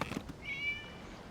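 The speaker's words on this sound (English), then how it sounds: "It was just a cat." A cat in a video game gives a single short, clear meow, fairly close, over quiet background ambience.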